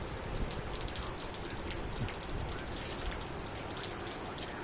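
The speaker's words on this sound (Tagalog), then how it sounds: "Sana bumuhos ang ulan hanggang mamaya." Heavy rain pouring steadily, a dense continuous patter of drops on surfaces with no voices.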